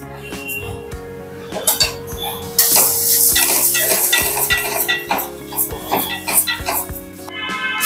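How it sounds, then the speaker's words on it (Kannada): Moong dal is warmed in a pan for sweet pongal, with scattered clinks and scraping stirs of utensil against the pan under a voice talking in the background. "ಫಸ್ಟ್ ಸ್ವಲ್ಪ ಹೆಸರುಬೇಳೆನ ಬೆಚ್ಚಗೆ ಮಾಡ್ಕೊಳ್ಳೋಣ"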